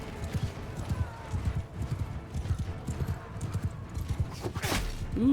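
Cavalry horses gallop in Mount & Blade II Bannerlord, a dense, steady drumming of hooves close by, with a whinny rising near the end of a battle scene.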